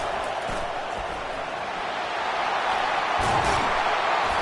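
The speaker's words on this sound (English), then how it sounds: "Decibels rising as the crowd gets behind this defense on 3rd down." A loud, steady roar from a stadium crowd in a college football video game, building on a third-down defensive stand, with a broadband wash swelling slightly toward the end and no clear speech.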